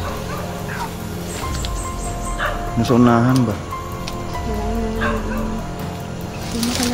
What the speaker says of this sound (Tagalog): May aso pala dito. Okay, may aso dito.